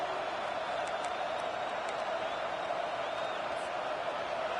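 Football stadium crowd at a Virginia Tech versus Utah game roaring steadily after a big play, a dense distant wash of cheering with occasional whistles poking through.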